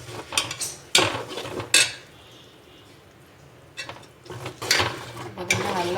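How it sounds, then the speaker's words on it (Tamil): Masala sautéing in a pan for mutton kulambu brings bursts of spoon scraping and clanks against the pan over a low sizzle, with a quieter stretch in the middle and no talk. "நல்லா மசாலா வந்து ஒரு 5 நிமிஷம் நல்லா வதங்கிடுச்சு"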